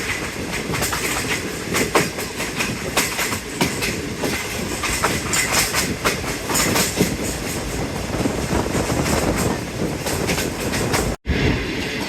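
A Green Line passenger train in Pakistan rolls along the tracks near Gujranwala, heard from onboard as a loud, steady rumble with rhythmic clickety-clack of wheels over rail joints and a brief drop-out near the end.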